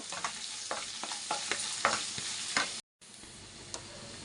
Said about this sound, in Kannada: ಈರುಳ್ಳಿ ಹಾಕಿದ್ಮೇಲೆ ಸ್ವಲ್ಪ ಫ್ರೈ ಮಾಡ್ಕೋಬೇಕು